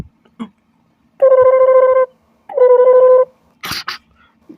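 Telephone keypad dialing in a story scene: two long bursts of rapid, evenly spaced tones, close and clear, then a short rustle and a brief click as the receiver is handled, with no voices.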